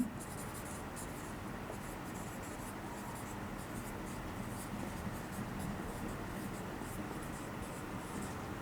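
A pen scratches steadily across paper while a vector physics problem is written out, with continuous close scribbling and faint ticks of strokes throughout. No one speaks.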